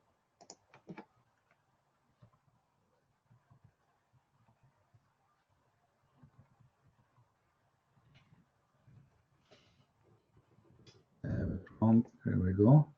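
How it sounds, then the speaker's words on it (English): Scattered, faint clicks of typing on a computer keyboard in a quiet room, irregular taps spread out, followed by a louder burst of speech at the end. "I'm typing in Arabic still."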